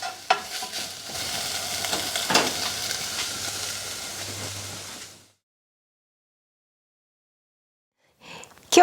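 Salmon flakes stir-fried with sake in a pan sizzle and scrape steadily for about five seconds, with spatula strokes over a constant hiss, then silence before a brief clatter at the end.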